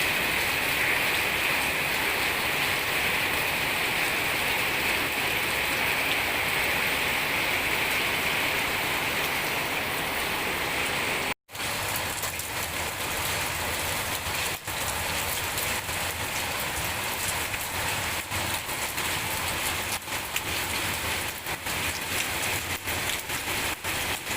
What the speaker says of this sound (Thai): ฝนตก ประมาณนี้นะครับ